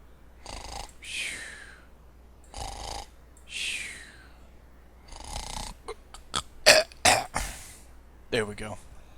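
A man imitates snoring with his voice, making several rough, rasping inhale-and-exhale snorts spaced a few seconds apart, growing into quicker, louder choking snorts near the end.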